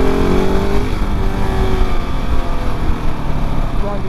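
A KTM 690 Enduro R motorcycle rides off road, its engine droning loud and steady throughout with a rough wind-buffeted rumble close to the rider.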